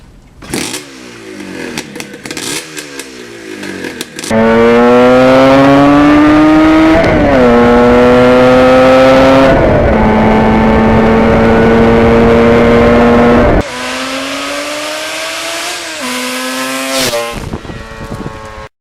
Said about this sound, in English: There's not many things in the world of motorcycling as much fun as going through the gears in an Rd400.